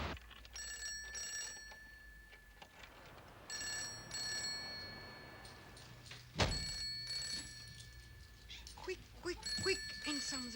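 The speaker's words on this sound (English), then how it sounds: "Quick, Handsome, the telephone's ringing." An old-fashioned telephone bell rings in repeated bursts in a room, moderately loud, with a sharp thump partway through and a voice talking at times.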